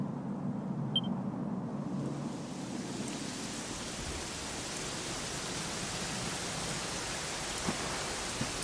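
Steady video-game rain from Dragon Quest XI pours throughout with a dense, even hiss and no talking, a soft patter under a constant wash of noise.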